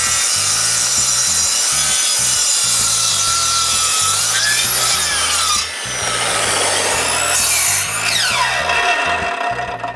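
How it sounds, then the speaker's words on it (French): A 2x10 wooden board is cut to width with a power saw during ceiling construction in a new workshop, a loud continuous rasping cut with rhythmic low pulses that shifts pitch near the end, with no talking. "je commence par couper un 2x10 à la bonne largeur"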